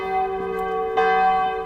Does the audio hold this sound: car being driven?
no